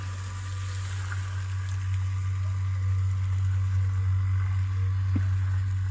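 A small, heavy electric motor pump draws liquid out of a container, giving a steady low hum with faint gurgling and bubbling above it.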